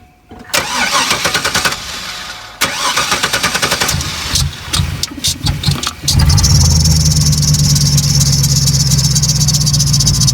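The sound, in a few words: pickup truck engine starting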